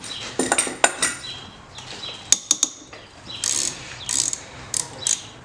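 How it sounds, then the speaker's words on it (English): A ratchet loosening triple square M8 axle bolts on a Beetle, close metallic clicking in short bursts with sharp clanks between, rapid pawl ratcheting in quick spurts near the end. "here I'm taking this axle off. It's just 6 bolts all the way around."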